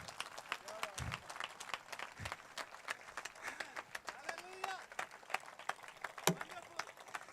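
A congregation at a Hindi-language church sermon claps faintly in a scattered way, with voices and low thumps mixed among the claps.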